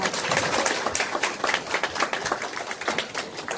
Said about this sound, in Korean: 시장님을 큰 박수로 맞이해 주시기 바라겠습니다